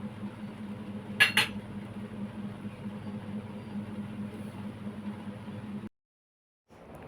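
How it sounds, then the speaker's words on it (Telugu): Peanuts roasting in a pan for a Telugu home-cooked dish, a steady close sizzling rustle with a brief metallic clink of a utensil near the start, then the sound cuts to near silence. "వేరుశనగలు కొంచెం వేసి వేపుతున్నానండి"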